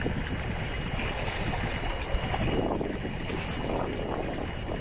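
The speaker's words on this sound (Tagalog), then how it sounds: "lakas talaga ng hangin, oh." Strong wind at the Panguil Bay Bridge roars steadily into the microphone, a dense, constant buffeting rush with no voices, loud throughout.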